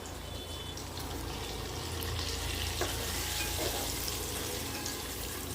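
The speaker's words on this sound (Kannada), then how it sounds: "ಈಗ ಈ ಎಗ್ಸ್ನ ಒಂದೊಂದೇ ಇದರಲ್ಲಿ ಹಾಕ್ಕೊಂಡು ಚೆನ್ನಾಗಿ ಫ್ರೈ ಮಾಡ್ಕೊಳ್ಳೋಣ." Eggs fry in hot oil seasoned with turmeric for egg biryani. A soft, continuous sizzle holds steady throughout, with no talking.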